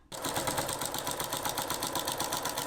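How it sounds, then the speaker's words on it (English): A sewing machine with a walking foot runs steadily along fabric edges, its rapid mechanical whir and even stitching rhythm starting abruptly and holding at a close, moderate level. "I'm just going to use my walking foot to just sew right along the edges"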